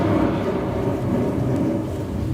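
Steady roar of thunder and heavy rain from a staged storm effect in a Disney Magic Kingdom show, dense and continuous without pause.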